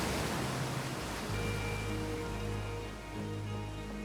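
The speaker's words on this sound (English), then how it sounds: "what a smooth waterfall" A waterfall in the space exploration game Outer Wilds gives off a steady, close, hissing rush of falling water, broad and even throughout with a low tonal hum underneath.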